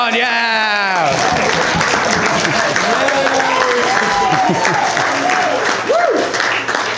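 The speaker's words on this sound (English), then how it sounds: "One clap. One clap." Wedding guests at Styal Lodge in Cheshire break into loud, sustained applause after a toast to the couple, a dense crowd of clapping near the microphone with voices calling out and cheering over it throughout.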